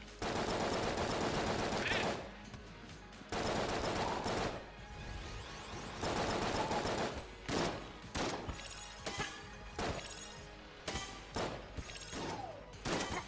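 Shotgun blasts in the video game Enter the Gungeon: loud bursts of firing with shattering impacts, first in long sustained volleys, then a run of sharp separate shots, with no talk.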